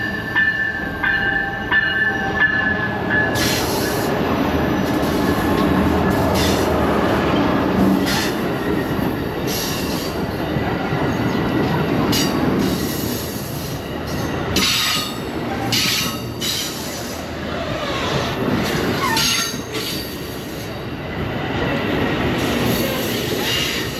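An Amtrak sleeper train rolls out of Emeryville, heard from inside with a steady rumble, intermittent high wheel squeals and clicks over the rails throughout.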